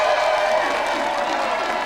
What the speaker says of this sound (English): Round of applause for our special guest